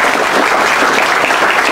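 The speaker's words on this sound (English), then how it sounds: "A round of applause for Gaby." A hall audience at a university law faculty valedictory lecture gives a steady, loud, sustained round of applause with no voices standing out.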